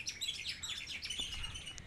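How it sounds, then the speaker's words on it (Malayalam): A bird chirps in quick, high repeated tweets, fairly faint and close to continuous, with no voices around it. "കിളി വന്നു"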